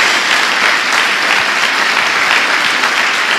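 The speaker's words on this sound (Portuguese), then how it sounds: "Dê uma salva de palmas ao Senhor novamente." A church congregation claps in unison, a dense, loud, steady burst of applause that fills the room with no voices over it.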